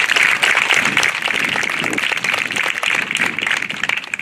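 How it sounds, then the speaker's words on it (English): A crowd applauds at a high school JROTC annual awards ceremony, with brisk, dense clapping that carries on steadily throughout. "Big round of applause."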